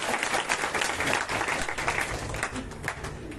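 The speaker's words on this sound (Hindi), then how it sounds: "अपने लिए जोर से ताली बजाइए।" Audience at a Shrimad Bhagwat Katha religious gathering applauding loudly, a dense, continuous burst of many hands clapping that holds steady throughout, close and full.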